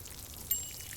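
Water runs from a tap into a container in the video game Plant Nursery Simulator, a soft, brief steady pour heard alone at low level.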